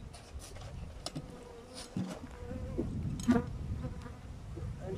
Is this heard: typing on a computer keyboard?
no